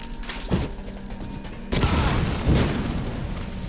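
An in-game explosion lands as a heavy boom with a sharp onset midway through, followed by rumbling debris, after a smaller thump near the start, all set against a steady background hum.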